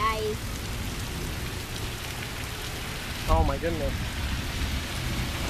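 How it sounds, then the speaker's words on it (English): Thunderstorm with heavy rain in Bethel, Connecticut: a dense, steady roar of rain fills the scene while a low rumble of thunder swells briefly near the end, and a person's exclamation comes through over it. "What do you think of the storm"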